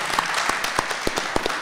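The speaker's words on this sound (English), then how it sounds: "a round of applause" Scattered applause from a small audience at a film premiere in the City of Delta, with individual claps standing out sharply in an uneven rhythm over a short stretch.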